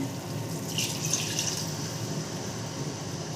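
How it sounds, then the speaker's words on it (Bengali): Rinse water from a mixer grinder bowl poured into a cooking pot of mutton masala, a steady close splash and trickle with a brighter gush early on, running alone without talk. "মিক্সির বাটি ধোয়া জলটা আমি দিয়ে দিচ্ছি এর মধ্যে।"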